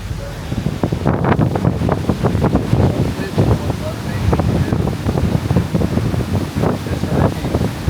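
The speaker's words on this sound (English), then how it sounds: "look at the water rushing through" Storm surge water rushing in along the Gulf coast ahead of Hurricane Milton, a loud continuous roar of surf and churning water with heavy wind buffeting the microphone, and a person talking over it.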